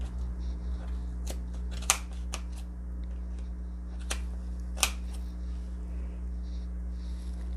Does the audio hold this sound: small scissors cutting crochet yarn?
yes